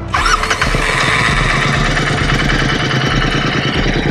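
A Royal Enfield Interceptor or GT 650 twin fitted with a Barrel Atom aftermarket exhaust idles steadily after a quick start, a loud, close, even burble with a slightly bassy low thump and no talk.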